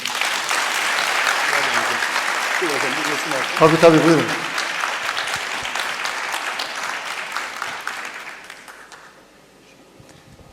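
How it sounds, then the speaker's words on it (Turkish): Strong applause fills an award ceremony hall for Nurettin Hoca, steady and loud, with a brief spoken phrase partway through, then fading into near silence near the end. "Nurettin Hocam'a bir alkış yok mu efendim?"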